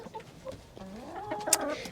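A hen clucks softly a few times nearby in a backyard flock, with low murmuring calls rising in pitch and a brief sharp squawk near the end.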